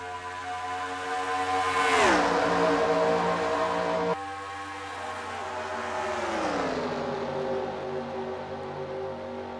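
Race cars in NASCAR Racing 2003 roar up through the gears together at a green flag restart, loud sustained engine tones climbing and shifting in overlapping waves as the field accelerates.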